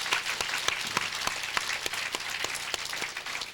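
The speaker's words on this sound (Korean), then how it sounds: "박수로 환영 드립시다" A church congregation at Sunday worship applauds to welcome a newly introduced family, a steady, fairly loud roomful of clapping with distinct individual claps standing out, no voices over it.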